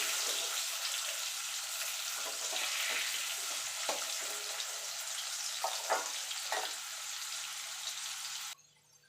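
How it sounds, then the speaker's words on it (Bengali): Potatoes with turmeric and salt fry steadily in hot oil, a continuous broad sizzle with a few sharper crackles and stirring scrapes, close and fairly loud until it suddenly drops off near the end; no talk. "সামান্য একটুখানি লবণ দিয়ে আলুটাকে আমি লাল লাল করে ভেজে তুলে নেব"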